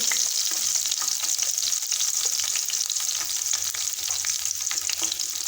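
Cumin seeds and garlic fry in a pan with a steady, even sizzle and crackle, close and loud throughout with no talking.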